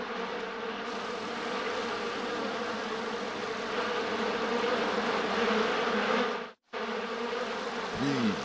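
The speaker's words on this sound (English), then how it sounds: "Bees. Why did it have to be bees?" A dense, steady buzzing of many bees, loud and close, continuing throughout with a brief dropout near the end.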